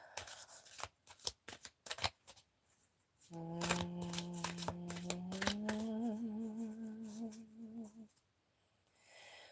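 Tarot cards are shuffled up close in quick riffling bursts, the rapid flicks slowing to a few soft taps. Partway through, music with a sustained singing voice rises underneath and carries on over the card sounds.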